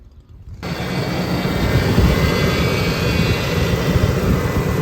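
A 2005 Ford F-150 engine starts and settles into a steady, loud running drone with a whining power steering pump, heard alone with no talking.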